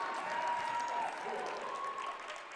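Crowd applause fills a high school basketball gym as a player leaves the game, a steady dense wash of clapping, moderately loud, with a commentator's voice over it.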